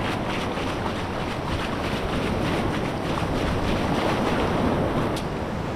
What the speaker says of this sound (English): I apologize if the audio kind of stinks with these waves crashing in and stuff.